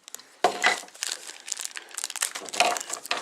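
Plastic packaging from a Calico Critters toy set being cut open and handled, close crackling crinkles in irregular bursts with a couple of sharper snips, no talking.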